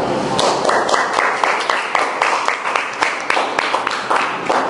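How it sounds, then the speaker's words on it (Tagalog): A live audience claps steadily for several seconds, the hand claps landing in a loud, fairly even rhythm with a faint voice underneath. "Maraming salamat po sa inyong palakpak"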